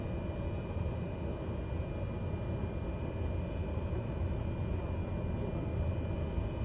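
A Cessna 208B rolls down the runway for takeoff in Microsoft Flight Simulator, a steady loud turboprop engine drone with a constant rumble that holds even throughout, with no speech over it.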